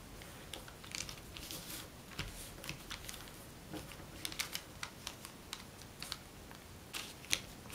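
Paper creased and pressed flat while folding an origami piranha, a run of soft crisp rustles and small sharp taps close by, with no talk.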